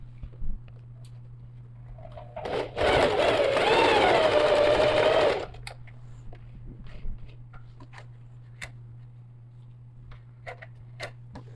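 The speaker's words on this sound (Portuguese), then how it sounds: "E vou colocar uma costura de segurança aqui." A sewing machine stitches a backpack strap in one loud, continuous run of about three seconds, with quiet ticks and small handling clicks before and after against a low steady hum.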